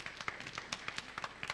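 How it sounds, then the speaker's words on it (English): Quiet applause from a workshop audience thanking the speakers, scattered close claps in an irregular patter. "I want to first say thank you to all the speakers, so please clap again."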